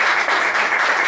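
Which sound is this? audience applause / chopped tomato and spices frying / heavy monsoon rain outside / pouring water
audience applause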